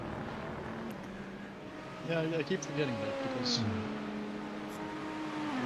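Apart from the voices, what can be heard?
BMW V8 turbo GTP race car engine in racing video game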